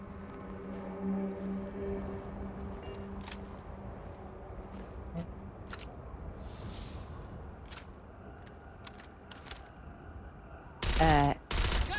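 Gunfire rattles at very large bugs in the Starfield video game, scattered sharp shots spread across the scene under a low ambient hum, ending in a loud close burst of rapid fire.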